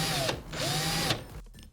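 An electric drill spins a homemade, balanced chef's knife in two loud bursts of whirring whine, each rising and falling, before trailing off into quieter clatter.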